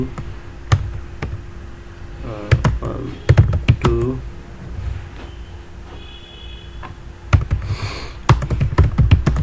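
Keys tapped on a computer keyboard in irregular bursts of clicks, fairly close, with someone speaking between and over the typing.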